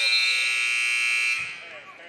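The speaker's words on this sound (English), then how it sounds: "The buzzer went off anyway, and we're going to send it to half." A high-school boys' basketball game buzzer at the Old Fort Classic tournament sounds for halftime, one loud steady electronic tone lasting over a second before cutting off, leaving faint gym noise.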